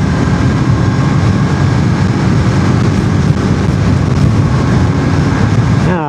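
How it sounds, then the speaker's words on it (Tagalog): Strong wind roars steadily and loudly across the microphone while riding a KTM RC 390 motorcycle, mixed with low engine rumble, continuous broadband noise throughout. "Lakas ang hangin."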